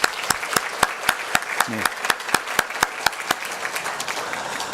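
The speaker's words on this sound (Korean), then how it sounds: "우리 박수로 환영하겠습니다" A church congregation claps steadily in welcome during a Sunday worship service, a sustained rhythmic wash of applause with a brief spoken word near the middle.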